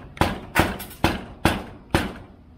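Five sharp knocks of a hammer on aluminum rivets on a Foxbody car, spaced irregularly about half a second apart, close and fairly loud with short ringing tails.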